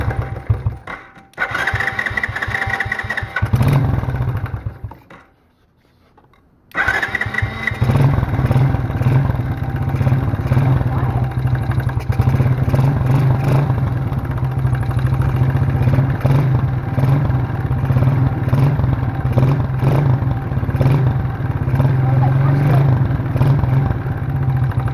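A tiny quad ATV with the choke on cranks and catches, then runs loud and close with a steady, buzzy idle. The engine cuts out briefly and goes quiet before it restarts and keeps running evenly to the end.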